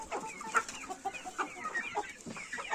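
Chicks and grown chickens cluck in a poultry pen, with steady overlapping peeps and clucks at moderate distance and no talking.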